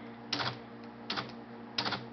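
An IBM Selectric electric typewriter with a faulty mechanism cycles three times, each a short burst of clattering mechanical whirring at steady intervals, heard close and alone over a low motor hum.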